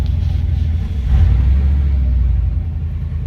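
Car engine rumbling and revving on a joy ride, likely the '69 Nova with an LS turbo swap or the '55 Chevy four-speed, a loud steady low drone that swells slightly mid-clip.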